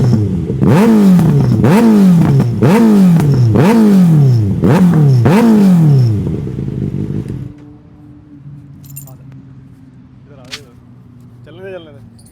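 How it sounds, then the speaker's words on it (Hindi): A Kawasaki ZX6R's exhaust barks through six quick, sharp throttle blips in a row, loud and close, then settles to a steady idle hum with faint clicks and light background noise. "तो इसमें इतना प्यारा एग्जॉस्ट लगा हुआ है तो मैं आपको जल्दी से ना एक एग्जॉस्ट नोट की साउंड सुनाता हूँ"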